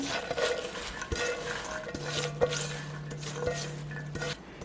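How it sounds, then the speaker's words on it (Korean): Cucumber kimchi being gently tossed with chives by hand in a bowl, soft wet squishing and light patting close up, with a faint low hum beneath. "아주 살살 버무려 주셔야 됩니다. 여기에 이제 부추를 넣어주세요."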